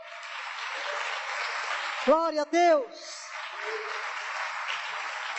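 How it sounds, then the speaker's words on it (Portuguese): A church congregation applauds during a service with a soft, even wash of clapping that lasts several seconds, and one voice briefly calls out in praise over the clapping midway through. "Um forte aplauso ao Senhor."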